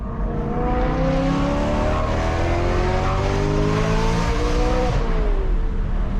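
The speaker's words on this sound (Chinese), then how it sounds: "排气声丝毫不逊色于超跑" A BMW M3's 4-litre S65B40 V8, rated at 420 hp and revving to 8300 rpm, pulls hard through its exhaust. The loud, close engine note climbs steadily in pitch, then drops off sharply near the end.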